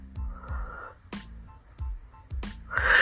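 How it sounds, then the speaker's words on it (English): A dog snoring nearby in a quiet room, with several rhythmic snorting breaths in a row and a louder wheezy exhale near the end. "My dog is, of course, snoring in the background."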